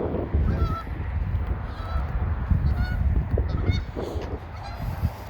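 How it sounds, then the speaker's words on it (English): Geese honking nearby in a repeated, uneven series of loud calls over outdoor background noise. "There's some geese coming in to attack me."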